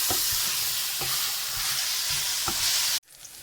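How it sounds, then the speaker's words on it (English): Loud, steady sizzling of ground beef frying in a pan for lasagna, with faint scraping underneath, stopping abruptly near the end. "That's when you know it's not boiling anymore, it's frying."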